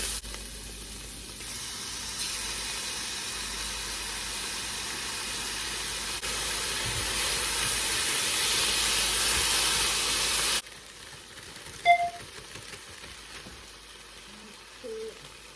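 Vegetables cooking in a pan on a home stovetop give a steady loud sizzle and hiss for about ten seconds, which then cuts to a quieter background with a few small clinks.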